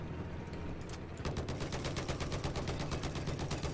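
Gunfire from snipers in Battlefield 4: after a quieter opening, a long run of rapid, evenly spaced shots sets in and continues, loud and dense, over constant battlefield noise.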